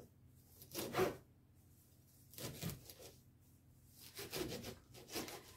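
A knife chops fresh mint leaves on a board for mint cordial, giving four separate rasping cuts spaced a second or so apart, close and fairly soft.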